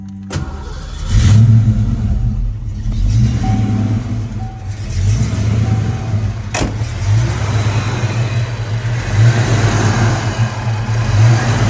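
A 1986 Ford Mustang GT V8 idles steadily close by after an ignition timing adjustment, a loud continuous low rumble that roughens briefly with a sharp click partway through.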